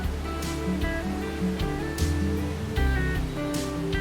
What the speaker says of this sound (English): some 500 cubic meters of water flow through the waterfall every hour